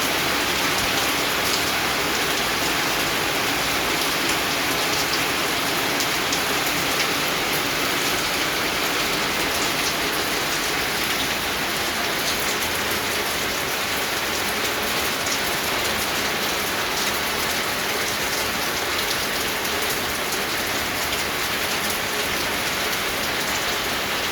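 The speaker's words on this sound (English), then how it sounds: "our 90 solar light is getting hammered down by the heavy rain" Heavy rain pours steadily onto a solar street light outdoors before dawn, a loud, dense, unbroken hiss of drops drumming on the fixture and surroundings with no voices.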